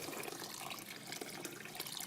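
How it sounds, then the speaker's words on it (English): Room temperature water is poured into a pot for homemade iced tea, a faint, continuous splashing trickle that stays steady throughout with no talking. "what we're going to do now is pour some room temperature water"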